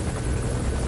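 A helicopter in Metal Gear Solid V: The Phantom Pain sounds briefly as a loud, steady rotor thrum, with no voices.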